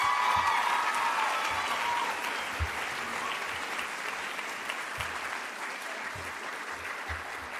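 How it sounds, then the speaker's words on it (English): Audience applause at a Charleston County School of the Arts 8th grade promotion ceremony, a steady sustained clapping from a large crowd that gradually thins and fades over several seconds. "So if we could give her a round of applause."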